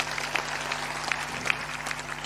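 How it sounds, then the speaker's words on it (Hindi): Audience applause greeting a chief guest at a Hindi spiritual discourse gathering, a few scattered claps rising over a steady low hum, fairly faint and brief. "एक बार ताली बजा दो"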